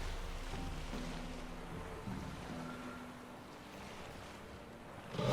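Boat churning across open water in The Witcher 3, with a steady low engine-like rumble, wash and wind noise running throughout and a slight swell at the very end.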